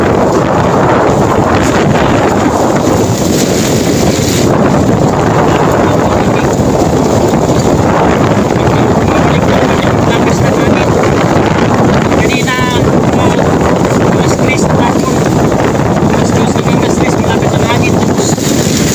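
Loud, constant roar of wind and heavy rain battering the microphone in Tabunok, Palompon, Leyte, a dense unbroken wash of noise throughout.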